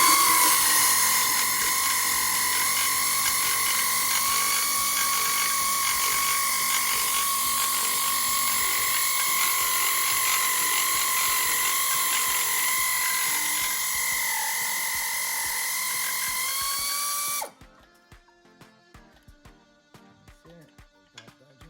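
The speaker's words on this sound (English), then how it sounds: "And then once you get it loose a little bit, get your air ratchet on there." An air ratchet loosens a long starter bolt on a Honda CR-V, whining in one steady, loud, high-pitched mechanical run for about seventeen seconds before stopping abruptly, followed by faint clinks and handling noises.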